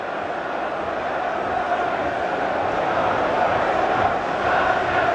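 A Liverpool football crowd jeers Neville during an FA Cup match against Manchester United, a steady loud roar of massed voices filling the stadium with no break.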